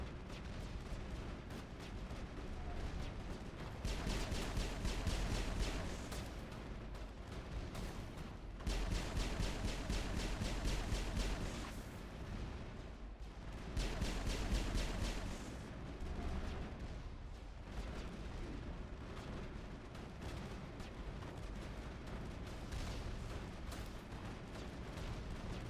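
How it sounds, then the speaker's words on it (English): Sustained gunfire from a firefight in the Mass Effect video game, dense bursts of rapid shots that swell and ease in waves across the scene, loud and continuous with no talking. "Hey, stop shooting me."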